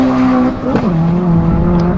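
A Fiat Uno Turbo with a 2.5-bar boosted engine makes about 420 hp and accelerates hard, heard from inside the car: a loud, close engine drone rises and shifts pitch, with intake and exhaust noise, over about two seconds.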